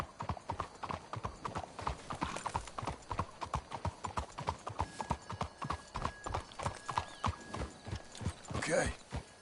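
Horses' hooves clip-clopping in the Red Dead Redemption 2 video game, a steady rhythmic trot of several hoofbeats with a brief whinny near the end, quiet and under sparse talk.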